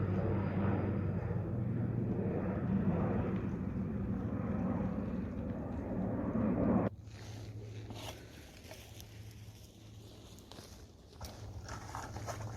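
A broad, steady engine roar from an airplane overhead fills the first half, then cuts off abruptly, leaving quieter ambient noise.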